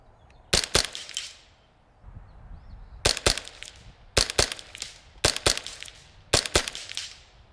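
Semi-automatic JPRFX .22LR rifle fired outdoors in wind, sharp cracks in quick bursts of two or three shots each, five groups in all, close and loud over a quiet breezy background.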